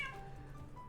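A female house cat meows in a short, fairly close call with a clear tonal cry that fades out, followed by quiet room background and no talking.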